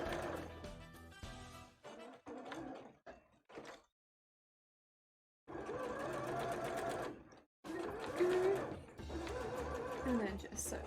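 A sewing machine stitches around the edge of a piece in close, steady whirring runs, with a stretch of silence partway through and more stitching after it.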